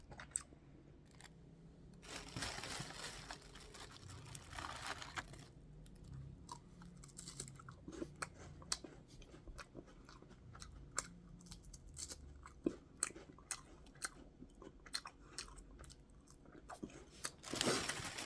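Someone chews a Jeju tangerine, making close, quiet, wet squishing and soft crunching bites in an irregular rhythm, with no talking.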